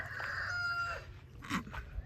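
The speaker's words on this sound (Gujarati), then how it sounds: "આ કુકડો છે" A rooster crows once in a drawn-out call, followed by a few short clucks, somewhat faint against quiet surroundings.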